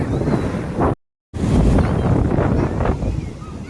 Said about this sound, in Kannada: ಸಿಕ್ಕಾಪಟ್ಟೆ ದೊಡ್ಡ ಅಲೆ ಬರ್ತಾ ಇದ್ದಪ್ಪ.